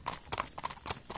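Horse hooves clip-clopping in a steady walking rhythm, about five distinct hoof strikes, close and moderately soft, with no talking over them.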